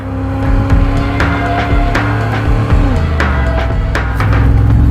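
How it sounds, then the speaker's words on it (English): A Chevrolet Camaro built as a beater burnout machine roars through a burnout, its engine revving hard with continuous tire noise and scattered sharp cracks, loud and close throughout. "Burnouts in the Camaro never gets old"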